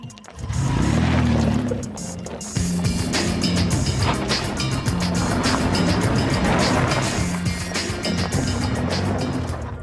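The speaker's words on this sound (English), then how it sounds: "So I've come here to give the most rugged four-wheel drive a test drive." A rugged four-wheel-drive vehicle drives off-road, giving a loud, steady rumbling roar with rattling and crunching over rough ground that continues throughout.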